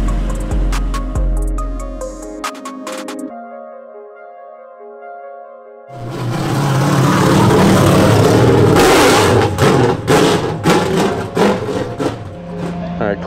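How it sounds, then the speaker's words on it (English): An LS V8 swapped into a Nissan S14 drift car revs sharply, with snappy, high-pitched bursts early on, a pause, then a sustained loud, raspy howl that fills the latter half, close and dominant. "It revs like a street bike."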